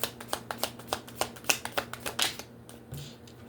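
Tarot cards are shuffled up close in quick, rhythmic riffles of crisp flicking bursts that run for a couple of seconds, then trail off into quiet.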